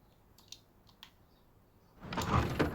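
A Class 350 train window opening in Train Sim World 5 on the West Coast Main Line: a few faint clicks, then a louder sliding rush swells in and holds, with no talking.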